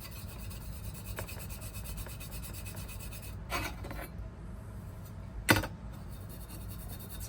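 Toothbrush scrubbing rust off 1968 Camaro gauge cluster parts: a steady, faint rasping rub runs throughout, with two brief louder scraping bursts partway through and near the end.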